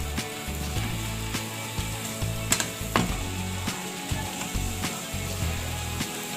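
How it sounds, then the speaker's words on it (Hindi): Spiced vegetable and chicken burger filling frying over a high flame in a pan, with a steady sizzle and intermittent scraping and clinking of a utensil stirring, close up and with no talk. "2 से 3 मिनट मैंने इसको तेज़ फ्लेम पे फ्राई कर लिया है।"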